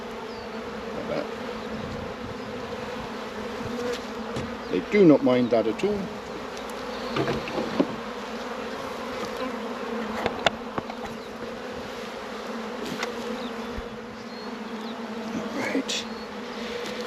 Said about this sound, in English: all of these bees will then just climb up inside